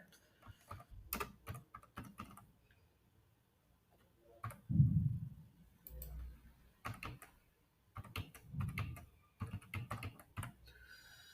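Keys clacking on a computer keyboard while entering an employee name into GST invoice billing software, quick bursts of close, crisp taps separated by short pauses.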